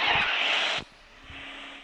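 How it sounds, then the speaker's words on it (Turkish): A car approaching in the Free Fire video game, a loud engine rush that cuts off abruptly partway through, followed by quieter game ambience. "Araba geliyor."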